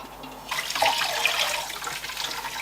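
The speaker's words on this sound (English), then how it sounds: "I'm going to rinse it now and see how well the dye has caught on the fiber." Water runs steadily from a tap over dyed wool fiber being rinsed after an overnight yellow dye soak, a continuous close splashing hiss that starts abruptly and carries on alone.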